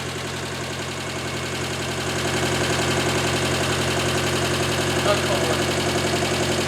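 Swapped engine in a 910 Bluebird wagon idling with a steady, loud, rhythmic rumble that rises a little in level partway through, close by, with voices speaking over it.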